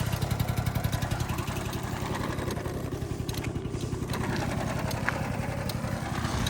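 A Honda Dio AF-34 scooter engine idles steadily nearby, a fast even putter with light clatter running throughout, no voices over it.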